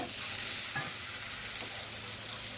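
Fish fries in a pan: a dense, steady sizzle close by, with a couple of faint stirring scrapes and no talk.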